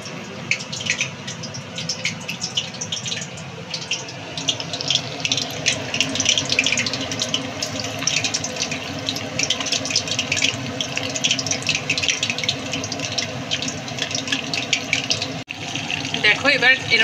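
Lotte fish (Bombay duck) coated in batter deep frying in hot white oil, a steady dense sizzle and bubbling that runs continuously and fairly loud throughout.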